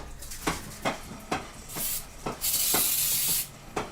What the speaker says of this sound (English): just a light spray on there